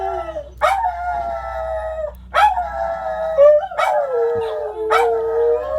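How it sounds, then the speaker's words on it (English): Several dogs howl in repeated long, wavering howls, four drawn-out rises and falls close by with sharp yips at each onset, no talking over them. "Oh, we're gonna howl at them."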